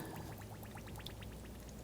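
Fresh brake fluid poured from a bottle into the brake reservoir of a 2014-2020 Nissan Rogue during a front caliper replacement, a faint, steady liquid trickle with rapid gurgling drips, no talk.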